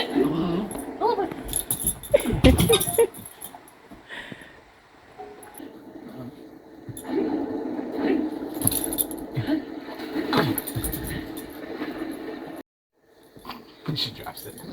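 A dog watches someone eat Asian lettuce wraps and whimpers faintly while begging for food. The whines sit under people talking nearby, with clinks and jangling in the background.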